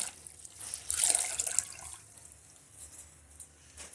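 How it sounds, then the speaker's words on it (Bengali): Water splashing and swishing as a floor is mopped with a wet mop at home, a short close burst of wet sloshing followed by softer scattered drips and wiping sounds, with no talk. "দেখো জল আর মোছা নিয়ে চলে এসেছি, তো চলো মুছে নেব।"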